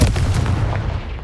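A Confringo blasting spell goes off in Hogwarts Legacy, a heavy, booming explosion with a deep rumble. It starts loud and close and stays dense for about a second, with no voices.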